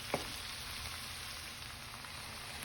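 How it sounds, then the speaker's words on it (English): Jerk chicken ingredients stir-fry gently in a pan, a steady soft sizzle and crackle throughout with one small clink at the start, no talking. "So here we're stir frying this down, just letting it saute nice and easy"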